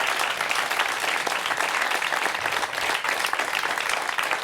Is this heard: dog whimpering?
no